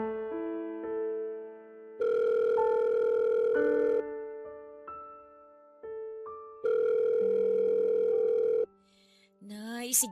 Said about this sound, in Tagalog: Sagutin niyo na po yung tawag.